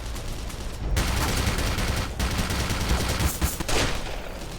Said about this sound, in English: the only way I could take that out is either with a pistol shot or the crossbow